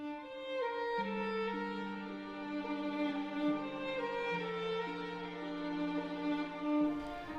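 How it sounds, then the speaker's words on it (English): Meruem's musical motif from the Hunter x Hunter soundtrack, Chimera Ant arc: a slow melodic line of sustained, resonant notes stepping over a held low bass tone, played alone without voices. "Now, the motif that I'm talking about in this case belongs to Meruem, the king of the ants, and it sounds like th"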